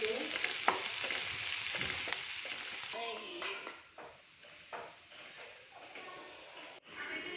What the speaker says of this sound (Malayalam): അപ്പോൾ ആ കോളിഫ്ലവറിൽ ഇങ്ങനെ ഫ്രൈ ആയിക്കൊണ്ടിരിക്കുന്നുണ്ട്